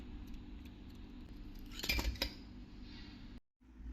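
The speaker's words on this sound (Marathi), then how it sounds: "त्याच्यानंतर आपण जे दुधाचे क्यूब्स केले होते ते पण याच्यात टाकून घेणार आहे" Frozen milk cubes tumble into a pot of mango mixture with a short cluster of clinks and clatters, over quiet kitchen background that then drops to a brief silence.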